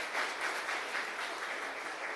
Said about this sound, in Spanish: Un fuerte aplauso para nuestra comunidad.